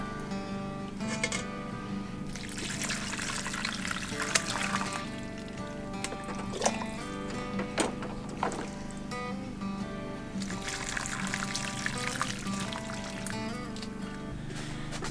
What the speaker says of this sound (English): And I'm going to keep straining my broth.